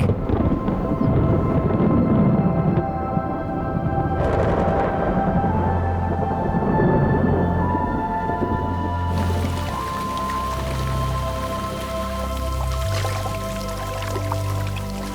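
Steady rain hisses and patters throughout on the African savanna, with a low rumble of distant thunder rolling beneath it; no voices.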